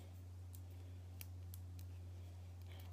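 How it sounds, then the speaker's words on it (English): Scissors snipping shimmer trim for scrapbooking, a few soft, crisp close cuts spread over a few seconds above a low, steady electrical hum. "I cut my shimmer trim."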